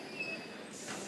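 A London Underground District line train at Embankment rumbles steadily through the short stretch with a faint rail squeal and a thin whine; it stays fairly quiet and constant, with no voices.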